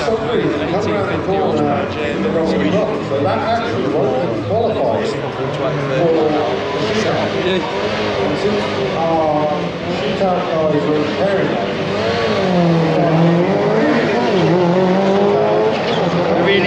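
A four-wheel-drive GT4 car races down the Santa Pod drag strip at the 2021 Jap Show, its engine a steady, sustained roar heard under loud, continuous commentary.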